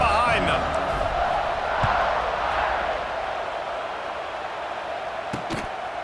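Stadium crowd noise from the College Football 26 video game swells as a broad, sustained roar of cheering, loudest in the first few seconds, then settles lower. A commentator talks over it.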